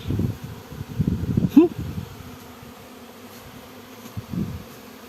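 Honeybee swarm buzzing around a hive, a droning hum that swells in bursts near the start and again toward the end, with quieter stretches in between.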